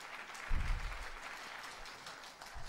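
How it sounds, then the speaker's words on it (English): A crowd at an awards ceremony breaks into applause, a soft continuous patter of many hands clapping at a distance. "a big round of applause to all of you"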